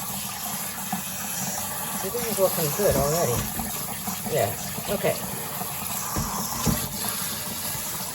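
Cold water runs and splashes over blanched stinging nettles in a kitchen, a steady pouring hiss with bursts of gushing, while someone talks briefly over it.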